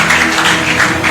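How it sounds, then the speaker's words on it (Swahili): A church congregation claps for the Lord, a dense, continuous wash of applause with a faint rhythmic pulse, loud and close throughout. "Acclame, acclame, acclame pour le Seigneur."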